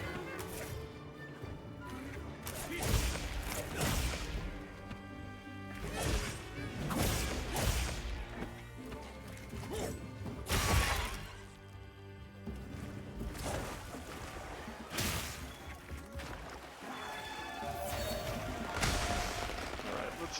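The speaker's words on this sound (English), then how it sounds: "I love that they've got a little, like, fireworks sound effect going off." Crackling firework-style bursts go off repeatedly amid dense combat audio and music during a monster hunt in Monster Hunter Wilds, the pops scattered over about twenty seconds with occasional louder thumps and crashes.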